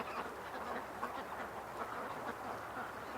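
Ducks on open water break into loud, frantic quacking, a dense overlapping chorus from several birds that carries on without pause at moderate distance.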